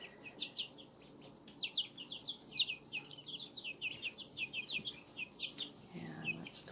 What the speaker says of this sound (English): So here's my older chicks.